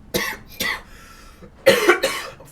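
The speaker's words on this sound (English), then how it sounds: "coughing like a smoker." A person coughs harshly, close and loud: two single coughs, a short pause, then a rapid double cough.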